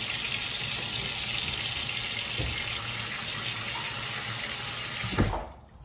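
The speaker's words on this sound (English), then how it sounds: "Put some water in here." Cold tap water pours steadily into a pot holding oxtail, a constant close rushing gush that ends abruptly as the flow cuts off near the end.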